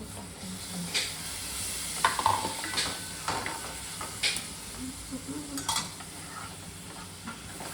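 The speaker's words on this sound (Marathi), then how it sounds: "आता आपण टाकूयात आपला तार मासा." Tar fish fries in a pan for a home-cooked lunch, a soft sizzle under repeated clinks and scrapes of a utensil stirring against the pan, close and irregular.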